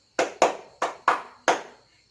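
Five sharp hand claps in an uneven rhythm, two quick, then two evenly spaced, then a final one, crisp and close in a quiet room, demonstrating a classroom clap pattern.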